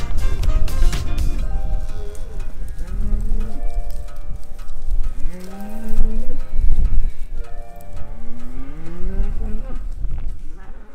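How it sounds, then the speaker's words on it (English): Heifers and their young calves on a farm moo repeatedly in long, deep, sliding calls, several animals overlapping at close range over a steady outdoor background. "A couple of heifers there that have had babies."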